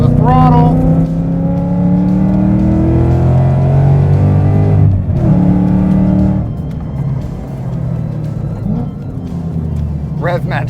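Ford Mustang tuned to 670 horsepower accelerating on a track, its engine droning loud and close with pitch rising and falling through the throttle, while a voice talks over it throughout.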